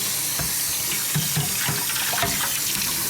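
Running tap water splashing over a juicer part as it is rinsed clean at a sink, a steady close hiss with soft irregular spatters throughout.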